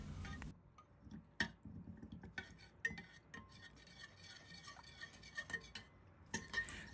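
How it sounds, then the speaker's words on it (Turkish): A whisk stirs chocolate sauce in a pan, giving a faint run of quick metallic ticks and scrapes against the pan, alone and close. "Bu aşamada çırpıcıyla devamlı karıştıralım"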